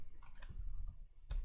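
A computer mouse gives sharp, quiet right-click ticks, a few separate clicks close by, followed by one louder click near the end, with no voices.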